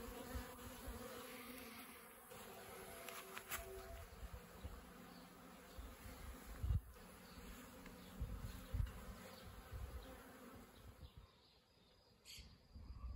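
Honeybees buzzing at the entrance of a top bar hive after a swarm settles in, a faint, steady, layered hum of many bees coming and going, heard from nearby outdoors with no talking.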